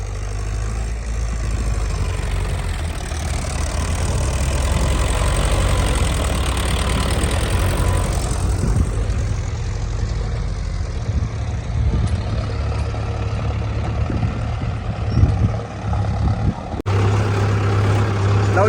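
A farm tractor runs nearby with a steady, loud diesel rumble and a knocking idle that continues throughout, fading slightly and then returning.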